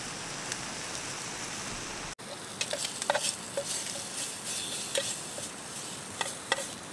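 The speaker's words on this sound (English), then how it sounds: "It's starting to rain quite a bit" Rain falls at a campsite during a solo camping trip. A steady, dense patter and hiss runs throughout, with sharper close drops tapping irregularly over it, and no voices.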